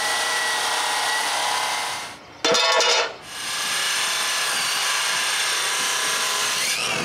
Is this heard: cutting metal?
yes